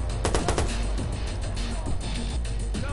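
Gunfire in the video game Watch Dogs, including a headshot: a few sharp shots cut through dense, noisy game sound over three seconds.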